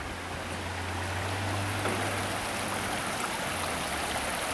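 Babbling creek flowing beneath a long bridge near Crystal Falls in Kinsmen Park, Sault Ste. Marie, a steady broadband rush of running water with a low hum underneath, continuous and moderately loud, no voices.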